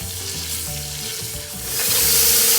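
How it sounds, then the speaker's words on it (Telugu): Ginger garlic paste fries in hot oil in a pan, a close, loud, continuous sizzle that swells louder toward the end, with no voices. "పచ్చివాసన పోయే వరకు కూడా ఫ్రై చేసుకుందాం"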